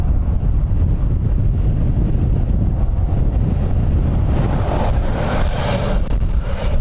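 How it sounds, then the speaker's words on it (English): Strong wind gusts buffet an outdoor microphone at an airport ahead of a rain front, a loud, continuous low rumble with surging bursts and no talking. "Big gusts now, as you can probably hear on the microphone."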